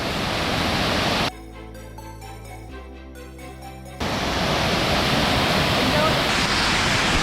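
Damtua waterfall at Alikadam, Bandarban, roars as a loud, steady wash of broadband noise, broken in the middle by a few seconds of music before the torrent returns alone.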